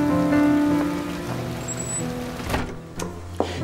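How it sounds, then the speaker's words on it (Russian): Rain falls in a cold outdoor scene as a steady soft hiss beneath sustained tonal music, with a few brief knocks near the end. "Холодно же, дождь идет."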